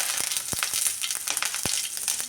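Mustard seeds and curry leaves sizzle in hot oil with a steady crackling hiss, punctuated by sharp pops and spits from the seeds bursting, close and continuous throughout.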